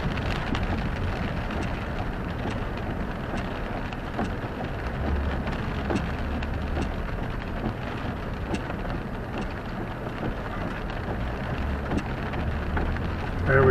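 Steady rain falls and patters on a nearby surface, with scattered distinct drop ticks over a continuous hiss.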